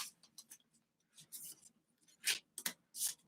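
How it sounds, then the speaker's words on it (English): A deck of cards is shuffled quickly, giving faint, close crisp riffles and flutters in short bursts separated by brief pauses. "I'm going to do a quick shuffle on them."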